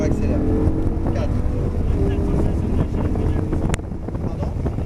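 Car engine accelerating on a manual gearbox with a steady low roar under heavy wind buffeting, a sharp click near the end, and people talking inside the car.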